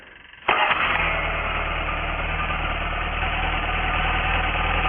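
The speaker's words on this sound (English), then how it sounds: "I hit the ignition, make sure the fuel pump's working." A Rotax 912 aircraft engine on a homebuilt aircraft cranks and catches, then settles into a loud, steady, close idle that runs evenly to the end without voices.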